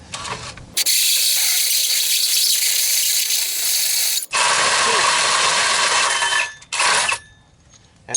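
A hole saw grinding through a truck bumper on a Ford 6.0, loud steady whining and scraping that runs for several seconds, cuts briefly, resumes, then stops, with a short burst near the end.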